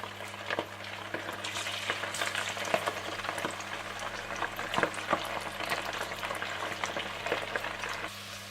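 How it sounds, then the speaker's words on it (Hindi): Marinated chicken pieces deep frying in hot oil, a steady dense crackle and sizzle with scattered sharper pops, close and continuous with no talking. "5 से 10 मिनट चिकन को मैरिनेट करने के बाद आप इसे डीप फ्राई कर लें।"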